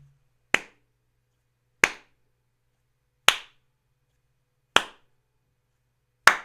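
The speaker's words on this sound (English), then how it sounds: "The slow clap of those Canadian whiskey guys for Nike" A slow, deliberate clap: five single sharp hand claps spaced about 1.4 seconds apart, close and crisp against near silence.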